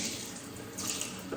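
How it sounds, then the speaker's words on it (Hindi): Water gushing from an opened kitchen tap in a London home, a steady close hissing stream running throughout with no voices. "तो यस, ऐसे नल खोला,"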